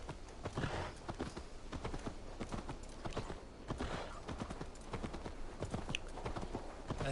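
Horse hooves clip-clop in a steady rhythm in the video game Assassin's Creed Valhalla, close and moderately loud, with faint game ambience beneath.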